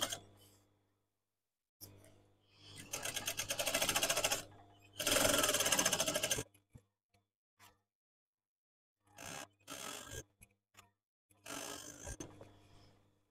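A sewing machine stitches three-inch header tape onto unlined curtains, in several bursts of rapid whirring needle runs separated by pauses with faint handling clicks.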